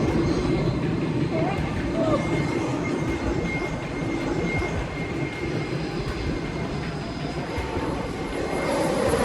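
Cabin of a C-5 Super Galaxy cargo aircraft during takeoff: a loud, dense, continuous rumbling roar that holds steady throughout, with voices faintly present beneath.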